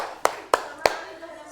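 Three distinct, evenly spaced hand claps ring out in a classroom microteaching session, each sharp and close, with a faint room murmur between them.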